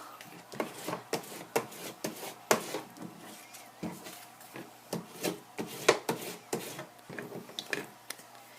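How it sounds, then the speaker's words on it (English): Tape being burnished down onto a paper envelope purse, a series of irregular rubbing and scraping strokes, close and fairly quiet, with short pauses between passes. "So I'm just going to burnish down all the tape, make sure it's adhered well."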